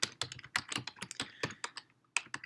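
Quick, close clicking of keys on a computer keyboard, an uneven run of taps with a brief pause before typing resumes, quiet and alone.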